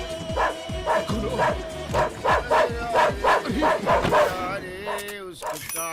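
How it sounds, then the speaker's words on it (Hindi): A dog barks in a fast, steady series of close, loud barks, about eight in a row, while someone shouts over them in a comic chase scene, before the barking breaks off. "कोई ये कुत्ते को रोको भैया।"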